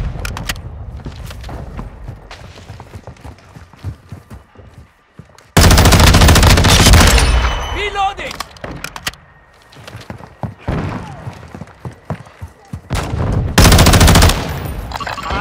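Loud gunfire in a Call of Duty Modern Warfare 2 team deathmatch, with rapid automatic bursts and dense volleys that swell to sustained roaring stretches, plus scattered single shots and thuds between them.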